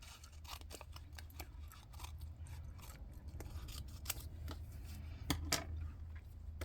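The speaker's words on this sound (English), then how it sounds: "And I cut them in half so that they fit on the lids." Scissors snip stickers in half for Tic Tac container lids, a quiet run of quick, crisp metallic clicks and cuts close to the microphone, irregularly spaced with no talking.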